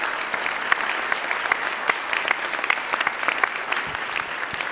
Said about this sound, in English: I wanted to end with a round of applause for this really brilliant session